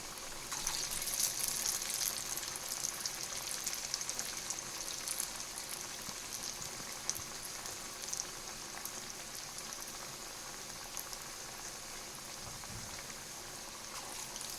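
Steady, quiet sizzling and bubbling of beetroot vadas frying in hot oil, a continuous crackle with no voices over it.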